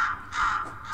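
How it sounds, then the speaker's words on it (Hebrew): Crow in a video game giving two harsh rasping caws, moderately loud and close, with nothing else over them. "שלום ציפור"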